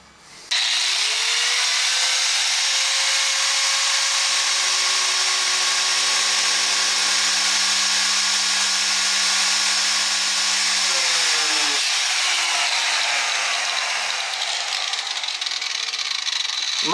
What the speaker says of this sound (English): now I gotta get the grinder out and cut off that spot weld right there